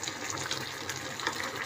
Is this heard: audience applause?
no